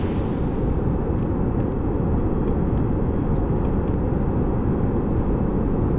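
A rocket lifts off in Kerbal Space Program with a loud, steady roaring rush of engine noise that stays constant throughout, broken only by a few faint high clicks.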